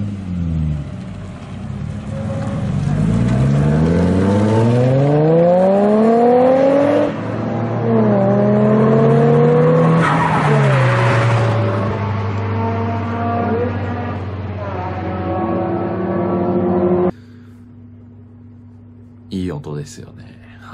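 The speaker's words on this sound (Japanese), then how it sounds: "こちらの富士坪の純正オプションマフラーだったかな、このちょっと音を聞いてください、" Car fitted with a genuine Fuji Tsubo factory-option muffler accelerating hard through several gears, engine note rising and dropping with each shift, loud and close, then settling to a steady idle drone at the end.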